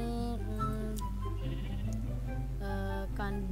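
Sheep bleating in the Minecraft video game, several wavering harmonic bleats in succession over a steady low background hum, close and clear with no talking.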